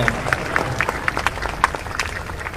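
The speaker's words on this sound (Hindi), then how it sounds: "ताली बजा दीजिए जिनके हाथ शॉल के बाहर हैं।" Audience clapping at the Kashi film festival as a guest is invited on stage, a brisk scatter of individual claps, moderately loud and fairly close, over a low murmur of the hall.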